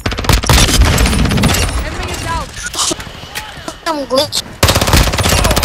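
Rapid automatic gunfire from a military shooter video game, loud bursts at the start and again near the end, with a player talking over the action in between.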